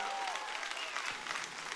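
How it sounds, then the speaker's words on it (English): A church congregation claps their hands in sustained, dense applause that fills the room, with faint crowd noise mixed in. "can we clap our hands and show your love to everybody there?"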